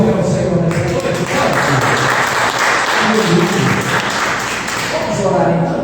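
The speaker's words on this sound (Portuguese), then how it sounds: "Você pode aplaudir ao Senhor nessa noite?" Evening church congregation applauding the Lord, loud sustained clapping from a large crowd, with voices and music sounding through the applause.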